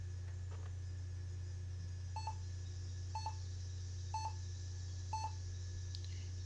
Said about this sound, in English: And we get a couple of beeps there.